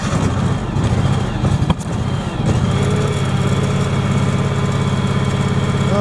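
John Deere X728 lawn tractor engine at half throttle hums steadily and close, a few uneven knocks in the first seconds settling into an even, continuous drone.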